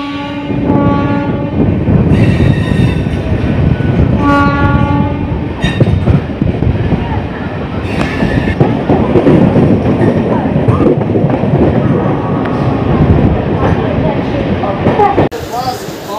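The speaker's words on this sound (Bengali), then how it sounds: "বন্ধুরা এটা হচ্ছে বেলুর মঠ লোকাল।" Belur Math local train running with steady rumbling and rattle, loud and close, with several sustained horn blasts sounding over the noise.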